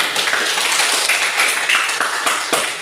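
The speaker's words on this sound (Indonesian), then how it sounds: "Tepuk tangan untuk kedua teman." A classroom of students claps together in a dense, steady burst, loud and close, sustained for a few seconds with no speech over it.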